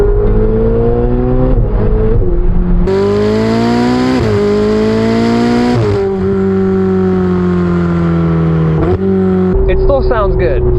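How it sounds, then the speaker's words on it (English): Turbocharged V8 of a Ferrari 488 Spider revving hard, loud and close, rising through the gears in several sweeping pulls with brief dips at each shift. "You could say it's probably the best sounding turbocharged motor there is out there"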